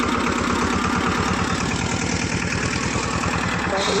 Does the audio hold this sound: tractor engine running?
yes